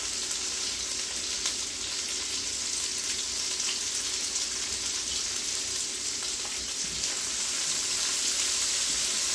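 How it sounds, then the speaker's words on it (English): Onions and garlic sauté in a hot pan, producing a continuous, even sizzle at close range with no pauses and no voices. "Onions with garlic, maybe 2 to 3 minutes. Saute that for 2 to 3 minutes."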